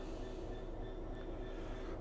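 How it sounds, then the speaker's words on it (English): A train in the Train Sim World 5 game on London Overground's Mildmay Line rumbles steadily with a low, continuous rolling drone and faint high tonal whine, no voices over it. "There's a train down there."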